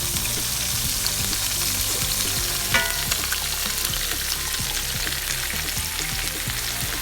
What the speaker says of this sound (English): what we're going to do now is add our mushrooms and garlic to the pan